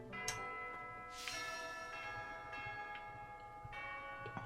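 A church bell in the video game Fire Emblem Three Houses rings with several resonant, overlapping strikes, each leaving a long shimmering ring that sustains steadily and clearly with no talk.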